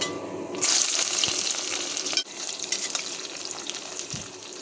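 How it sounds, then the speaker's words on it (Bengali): Chopped onion frying in hot mustard oil with dry chillies, bay leaf and spices, a bright hissing sizzle bursting up as the onion goes in, then steady crackling with a few scrapes. "পেঁয়াজটা ভাজা হওয়া পর্যন্ত অপেক্ষা করব।"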